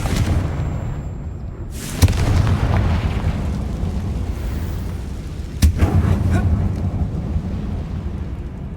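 Confringo blasting spell detonating inside a mine in the video game Hogwarts Legacy, two heavy booming explosions a few seconds apart with rumbling tails over continuous low background noise.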